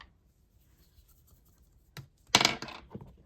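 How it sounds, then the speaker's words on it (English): Dice rolled during a cash stuffing savings challenge: a single tap, then a short clattering tumble that lasts about half a second and fades out, close and clear in a quiet room. "let's go ahead and roll the dice."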